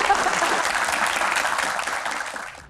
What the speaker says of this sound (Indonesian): kita catat. Tepuk tangan.